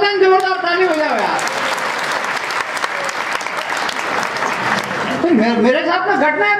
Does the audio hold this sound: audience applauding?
yes